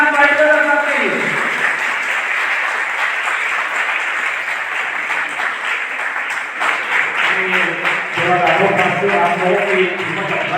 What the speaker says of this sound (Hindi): जोरदार तालियां उस्मान बाटली वाला साहब के लिए